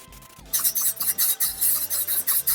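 A blade tool cuts into a hard acacia wood bowl. Rasping, grinding bursts repeat in a steady rhythm, loud and close, after a quieter start.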